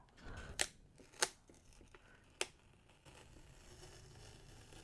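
Three sharp, crisp tearing snaps as small labels are peeled off, spaced apart, close by, with quiet rustling in between; no talking.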